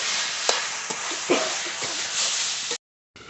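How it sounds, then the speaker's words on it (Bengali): Meat cooking in a pot is stirred with a utensil over a steady sizzle, with a few sharp scrapes and knocks against the pot before the sound cuts out abruptly. "মাংস একটু ঢেকে দিয়েছিলাম ঢাকনা তুলে নেড়ে নেবো"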